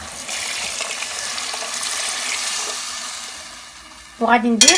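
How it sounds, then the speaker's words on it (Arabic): Flour for Moroccan chtba soup frying and being stirred in a hot pan, a steady close sizzle with scraping stirs, then a brief burst of running tap water at the end. "دابا ها هي تقلات شي شويه، ما تخليوهاش تقلى بزاف"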